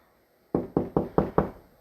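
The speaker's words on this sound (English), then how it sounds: "You can knock" Five evenly spaced knuckle knocks on a drywall surface while searching for a stud, close and hollow-sounding, each a sharp thud decaying quickly, in an otherwise quiet room.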